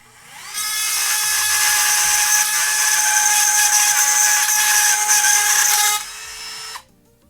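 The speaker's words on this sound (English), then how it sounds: "here we have a partially charged Dremel" A partially charged Dremel rotary tool spins up to a high-pitched whine, holds steady for about five seconds close by, then winds down and stops, with no talking.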